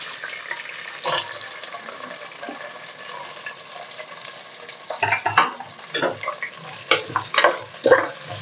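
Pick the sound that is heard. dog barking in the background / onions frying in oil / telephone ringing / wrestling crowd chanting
onions frying in oil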